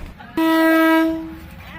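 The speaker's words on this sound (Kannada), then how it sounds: "ಸೊ ಇವಾಗ ಟ್ರೈನ್ ಬರ್ತಾ ಇದೆ." At a Bangkok railway market a train sounds a single loud, steady horn blast lasting about a second before fading, nearby and clear over faint crowd noise.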